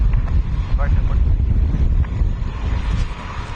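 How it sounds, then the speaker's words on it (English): Strong wind buffets the microphone at Washington Dulles International Airport, a steady low roar and rumble that fills the whole stretch, with faint radio chatter and brief tones underneath. "I tell you, the wind is picking up here."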